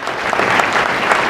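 Audience applause for a visiting team from Europe at a corporate technology keynote in New York, dense steady clapping from a large crowd filling the room without pause.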